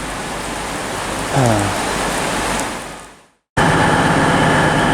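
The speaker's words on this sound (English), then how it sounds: "it's now piddling down with rain again" Steady broadband hiss of heavy winter rain pours down at a railway station, a short voice note breaking in briefly; the sound fades out, cuts, then returns just as loud.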